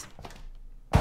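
A thumping door in a video game gives a single heavy, loud thunk near the end, after a stretch of faint low rumble and soft scattered knocks.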